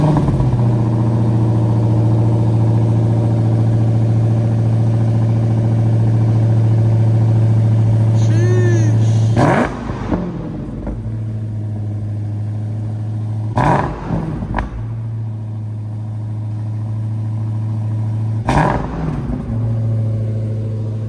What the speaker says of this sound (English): we're about to do a cold start on the Demon